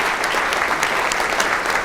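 Applause from a symposium audience for volunteers and staff, dense steady clapping from a crowd filling the room, sustained evenly with no talk over it.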